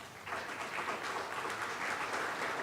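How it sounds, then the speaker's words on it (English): Clapping from the audience at an international pharmaceutical conference, a steady dense round of applause that swells in after a short quiet start and carries on evenly, moderately distant. "So kindly please clap for yourself."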